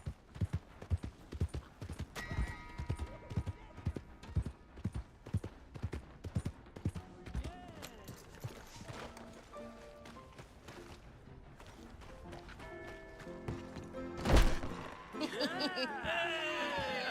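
Horse hooves clip-clop in a steady rhythm through most of the stretch in Red Dead Redemption 2, close and fairly loud, with voices talking over the hoofbeats and a brief louder burst near the end.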